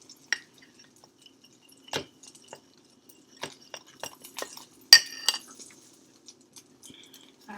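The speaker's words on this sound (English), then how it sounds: "mix it up" A spoon mixing pancake batter of flour and milk in a bowl makes sparse, soft clinks and wet taps at irregular intervals, quiet and close, with no speech.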